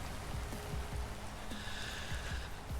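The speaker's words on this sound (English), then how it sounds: "Rain. Go away." Rain in the video game Vintage Story, a steady soft hiss of falling drops across a surface, with a few scattered low thumps and a brief higher tone in the middle, no voices.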